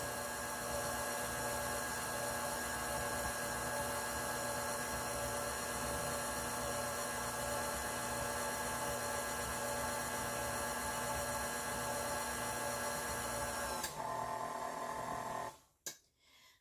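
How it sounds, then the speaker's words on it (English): An electric mixer whirs steadily through red velvet cake batter, a loud constant motor whine with a hiss beneath, cutting off near the end with a short clatter before quiet. "now I'm going to turn that up and just give it a good mix"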